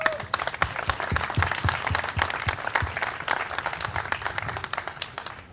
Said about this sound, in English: I think we should all give a huge round of applause to George personally